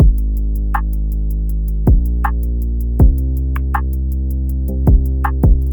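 A simple drum beat: deep booming kicks with sliding low tails, snare hits, and steady ticking hi-hats running throughout, no voices.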